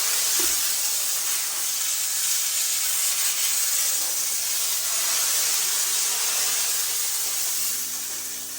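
Steady, loud steam hiss from a high-pressure detailing steam cleaner sprays continuously for several seconds, broadband and close, easing off slightly near the end.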